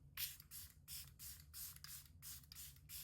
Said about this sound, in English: I'm going to be using my Saie Beauty CitySet Lightweight Setting Spray to lock everything in